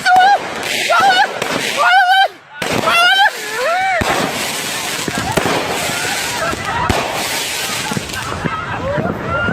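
Fireworks from a played-back video crackle and boom amid loud excited voices, with whistling rising shells, sharp bursts and a dense rumble of explosions continuing throughout.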